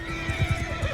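A horse neighs loudly over galloping hoofbeats during a battle in the Mount and Blade Bannerlord video game, with the whinny sustained across the whole second and the hooves thudding rhythmically beneath it, close and prominent.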